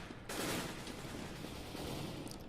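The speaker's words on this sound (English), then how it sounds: "now that they hear all the gunshots, JustusPro is going to fall back" Gunfire from a Counter-Strike match on the Inferno map, a dense rapid burst of automatic shots that starts abruptly and rattles on steadily without a break, loud and close.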